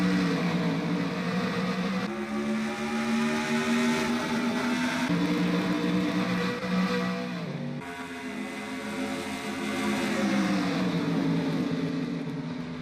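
Race car engines in a video game race at Lowe's Motor Speedway, a field of 42 cars leaving the green flag, make a steady, droning roar whose pitch climbs as they accelerate, with no voices.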